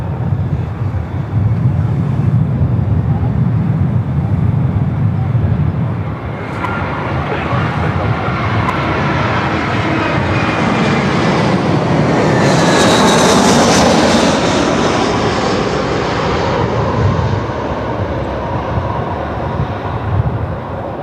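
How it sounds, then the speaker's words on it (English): A Jetstar Boeing 777 arriving at Melbourne Airport from Adelaide: a loud, sustained jet engine roar that builds and holds, with a rising whine in the middle, heard close and alone without talk. "it is the Jaffa coming in as Jetstar 777 from Adelaide"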